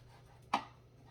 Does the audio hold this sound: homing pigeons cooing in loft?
no